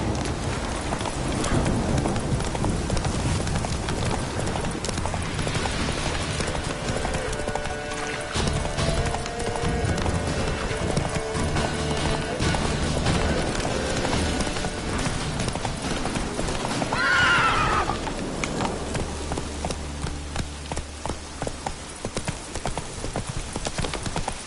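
Roach, Geralt's horse in the video game The Witcher 3, trots with steady, close clip-clop hoofbeats, and a short whinny rises partway through over a background of rain.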